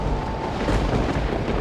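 Thunder from an approaching storm as the sky darkens before evening, heard as a dense, continuous low rumble with a broad roar that swells briefly partway through and carries on without any voices.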